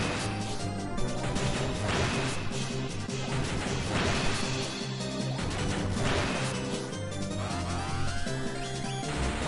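Repeated sharp slap and smash hits from a game, punchy impacts over busy layered effects and music, loud and continuous.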